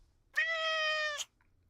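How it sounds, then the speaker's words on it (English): A single long, drawn-out cat meow from an in-game scene in Dai Gyakuten Saiban 2, steady and clear for nearly a second, with a faint short chirp after it and no talking. "There's no reason for you to meow your head off."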